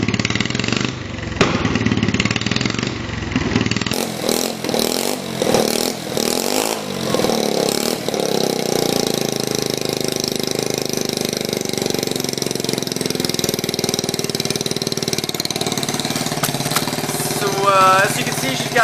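A lowered, stretched moped engine with an aftermarket exhaust idles and revs nearby, its uneven putter broken by small pops and crackles, running steadily and loud throughout.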